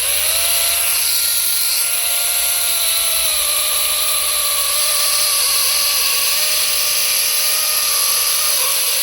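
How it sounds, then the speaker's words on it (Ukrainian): A GTM CS18/127BL cordless battery chainsaw cuts through wood with a loud, close, unbroken high-pitched whine that holds steady throughout. "Подивимося, на що здатна пилочка GTM."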